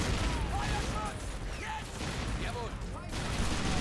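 Artillery and guns pound relentlessly at close range in Men of War 2, a dense, continuous barrage of booms and shots while a voice talks over it.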